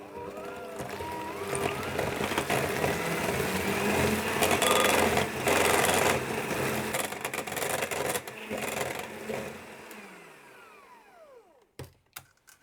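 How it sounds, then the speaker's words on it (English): Eggs being whisked into apple cake batter, a close, continuous scraping and rubbing of the whisk against the bowl that carries on for about ten seconds and then stops with a couple of clinks. "I'll whisk that to combine it"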